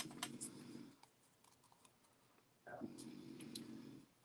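Scissors snipping a paper heart at close range, quiet short cuts in two bursts separated by a pause, with faint clicks in between.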